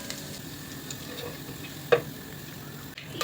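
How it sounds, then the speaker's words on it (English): Bay leaves and cumin seeds spluttering in hot oil in a pan for jeera rice: a quiet, steady sizzle with faint crackles, one sharper pop near the middle and a small clatter toward the end. "Heat oil in a pan. Add bay leaves and cumin seeds. Once they start spluttering,"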